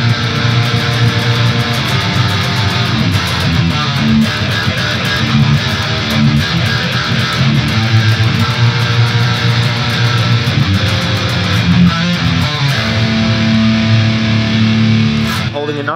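Heavily distorted electric guitar plays a chorus riff, a dense, loud, continuous wall of chugging, sustained metal chords with no break.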